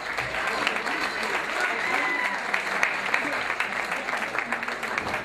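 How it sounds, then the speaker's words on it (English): A crowd at a 2015 amateur boxing finals venue in Hayes claps loudly and continuously for both boxers after a bout, with a voice faintly audible over the applause. "Let's have a round of applause for both boxes."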